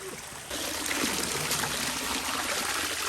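Flood water on a farm rushing and trickling over rocks: a steady close broadband wash that swells after a quieter start and continues evenly throughout.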